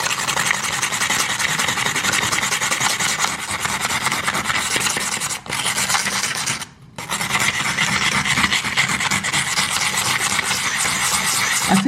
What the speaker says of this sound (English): To make this shiny again, you get your pumice stone and you scrub. It's gonna make a scratching sound.